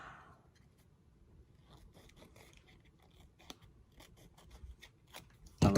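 Scissors trim paper for a junk journal specimen card, giving a few faint, scattered snips and rustles in a quiet room, ending in a louder sharp cut.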